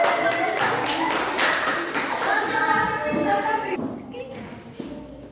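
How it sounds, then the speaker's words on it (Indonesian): Classroom applause for a student group, a short burst of clapping mixed with children's voices and shuffling; it fades out after about four seconds, leaving a quiet room. "Tepuk tangan untuk kelompok"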